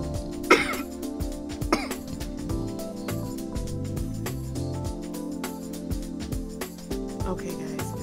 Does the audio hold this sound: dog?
no